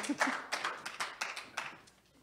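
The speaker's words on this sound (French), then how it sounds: "des vrais applaudissements, il n'y a rien qui bat ça" Real applause from a small group at the closing session of a summit, a handful of sharp claps scattered across a couple of seconds, fairly close and thinning out toward the end.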